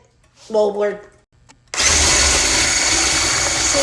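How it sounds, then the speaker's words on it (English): An immersion blender starts abruptly after a short spoken remark, then runs at a loud, steady, high-pitched whir while whipping egg whites in a big bowl. "I'm gonna use an immersion blender"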